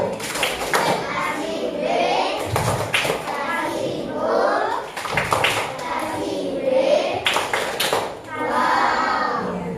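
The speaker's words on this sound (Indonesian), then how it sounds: "Tepuk wow." A classroom of schoolchildren performs the 'tepuk wow' clapping chant, with voices chanting in rhythm. Sharp, loud bursts of group claps and short shouted syllables repeat in a patterned cycle several times, close and lively.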